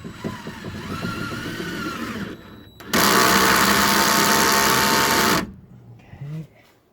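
A power driver sends screws into the back wall of a GMC vehicle being rebuilt for a subwoofer box. One sustained, loud whir runs for about two and a half seconds, after a quieter stretch of motor and handling noise.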